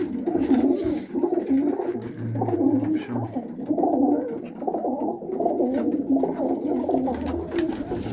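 Pakistani high-flying pigeons coo continuously nearby, their low, rolling calls overlapping throughout, while a person briefly speaks.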